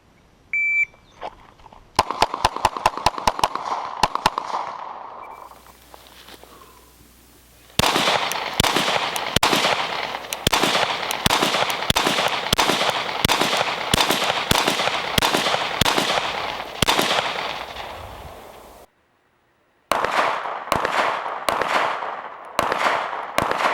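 Rapid handgun shots fired without sights in a kinesthetic shooting drill crack out loud and close in quick strings, with a steady beeping tone early on and short pauses between volleys.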